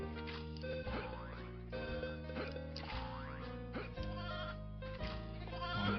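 Sheep bleating inside the Nintendo 64 game Toy Story 2, a few tonal bleats layered over steady game music and sound effects.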